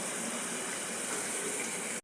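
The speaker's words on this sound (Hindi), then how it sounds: "और मैं आधा ग्लास पानी डालूँगी, हल्की लिक्विड हो और ज़्यादा ड्राई ना हो" Half a glass of water pours steadily into a pan of ridge gourd curry, a continuous close splashing gush lasting about two seconds before cutting off abruptly.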